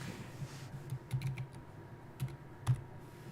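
Keystrokes on a computer keyboard while working in SketchUp, a handful of separate clicks in an uneven burst with a couple of louder taps, close and alone with no talk.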